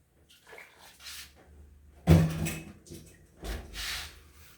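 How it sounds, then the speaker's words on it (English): Water splashes and gurgles into a pot in a short burst, with quieter clattering and handling noises before and after. "I'm going to add in the water."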